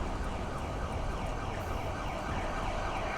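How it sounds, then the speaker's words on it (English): Approaching emergency sirens, played as a sound effect in a tabletop role-playing session, form a steady, dense wash of noise with faint wavering tones, at moderate level with no speech. "More sirens are approaching."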